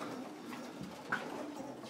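Racing pigeons in a loft give soft, low cooing that sits faint and close among quiet room noise, with one short brighter chirp partway through.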